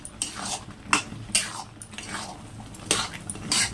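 Soya manchurian being stirred into a thick gravy in a pan, street-style: repeated scraping and clinking spatula strokes against the metal pan in an irregular rhythm, fairly close.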